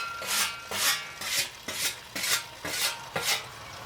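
A blade is honed on a sharpening stone in a workshop, giving steady rhythmic rasping strokes, about eight back-and-forth scrapes, close and moderately loud with no talking.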